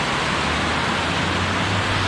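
A waterfall in Mill Creek Park, Youngstown, Ohio, heard up close as a loud, steady broadband rush of falling water with no pauses or other sounds.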